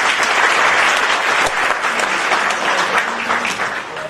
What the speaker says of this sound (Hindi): मैं चाहता हूं एक बार विश्वविद्यालय परिवार का आप लोग भी धन्यवाद करें तालियों के माध्यम से